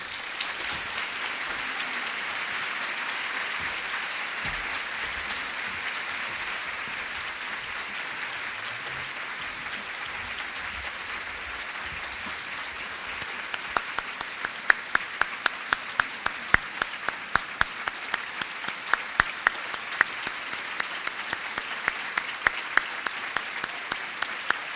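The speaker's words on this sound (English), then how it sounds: "I'm not interrupting that applause." A large audience applauds steadily for the whole stretch, dense and sustained, with sharper individual claps standing out toward the end.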